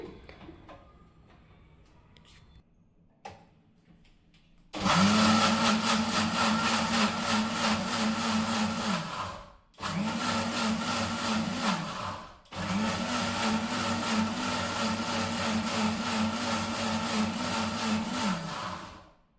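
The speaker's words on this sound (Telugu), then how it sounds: "కొంచెం అయితే వాటర్ పోసేసుకొని ఇంకా మిక్సీ పట్టేసుకోవడమే" A mixer grinder whirs loudly in three sustained bursts with brief pauses between, blending with added water, a steady motor drone starting after a few seconds of quiet.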